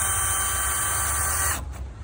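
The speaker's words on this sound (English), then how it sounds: "I'm just gonna add a few screws to hold it for the time being" A power driver whines steadily as it drives screws into a cabin door frame, then cuts off near the end, close and fairly loud.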